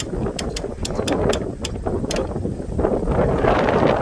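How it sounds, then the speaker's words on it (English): A crank-operated sawmill head clicks through a ratchet as it is wound down and back up, a series of sharp metallic ticks over steady wind and outdoor rumble. "Go down a little too far, and then crank it back up."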